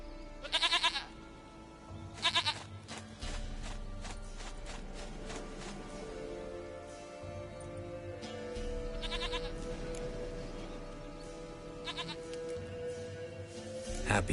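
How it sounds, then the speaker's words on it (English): Goat bleats in The Witcher 3: Wild Hunt, several short bleats at 0.5, 2.4, 8.5, 9 and 12 seconds, rising over a steady game soundtrack drone with some low rumbling. "Goat of mine. Dearest,"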